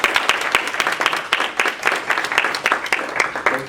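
Audience applause after a lecture on the inverse problem of imaging: dense, steady clapping from a room full of people, fairly loud and sustained for the whole stretch.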